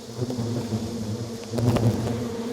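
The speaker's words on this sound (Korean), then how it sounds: "비를 피해 주택 처마 밑에 집을 지은 말벌떼" Hornets swarming at a small nest under the eaves of a house, a continuous close buzzing drone of many wings that swells louder near the end, with no voices.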